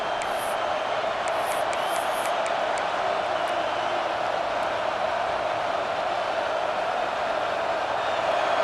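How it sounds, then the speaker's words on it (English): A large stadium crowd in a college football video game roars steadily in a continuous broad wash of noise during a red zone defensive stand, with a few faint high whistles near the start. "This crowd is trying to inspire this defense to make a big red zone stop."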